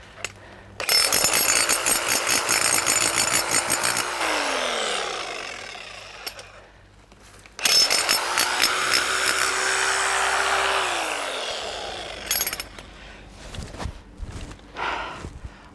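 A Full Boar 1050W 12J demolition hammer fitted with an SDS MAX clay spade digs into the ground in two long bursts of loud, rapid hammering, each ending as the motor winds down, followed by scraping and knocking sounds.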